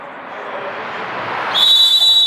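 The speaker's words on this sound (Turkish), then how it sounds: "Düdük çaldı, mücadele başladı." A referee's whistle blows sharply to start an amateur football match between İzmir Samsun Spor and Vibes FC, a single loud shrill tone cutting in over steady outdoor crowd and wind noise.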